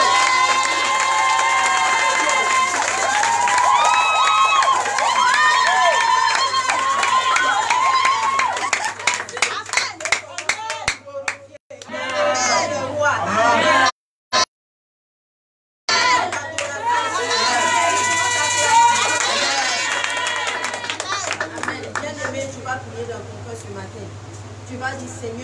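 A church congregation at its first service after the coronavirus cheers, claps and shouts loudly, with children's voices mixed in; the roar breaks off briefly midway, then returns just as strong.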